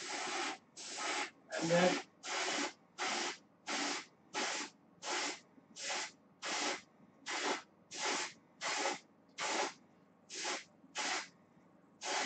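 An airbrush sprays paint onto a fishing lure through a stencil in short, evenly spaced hissing bursts, about sixteen in a row with brief pauses between, close and clear, with a few quiet spoken words near the start.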